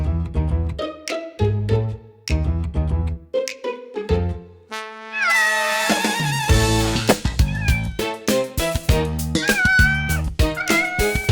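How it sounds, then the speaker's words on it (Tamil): A cat meows repeatedly in a domestic scene, with sharp tonal cries standing out over music-like sound and busy background noise, moderately loud throughout. "பூனையை கொண்டு வந்து விட்டுருக்க?"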